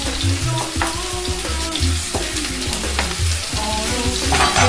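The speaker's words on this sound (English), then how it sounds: "Second, I'm going to add some onions. And parsley in." Onions and parsley fry in a hot pan alongside garlic for a Jamaican saltfish and butter bean dish, giving a loud, steady sizzle with bursts of stirring throughout, no voices.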